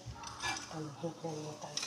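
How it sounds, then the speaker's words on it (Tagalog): Faint scraping and clinking of a knife against a plate, soft and close, with low background murmur underneath. "Kailangan ko pala hiwain ko sa pinggan."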